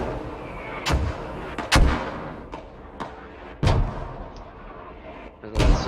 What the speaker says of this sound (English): But the mortars are dropping short.